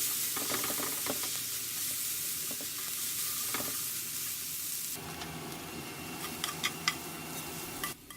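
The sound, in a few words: yakisoba sizzling as sauce is stirred in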